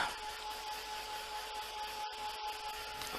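A handheld dryer blows steadily on collage paper with a whirring hiss and a thin whine, briefly cutting out twice near the end.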